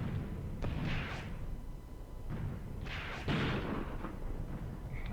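Gunfire aimed at a tank in the WWII tactics game Graviteam Tactics, Vinyagolovo battle: a few muffled, distant thumps and booms spaced across the moment, fairly quiet with low rumble between shots.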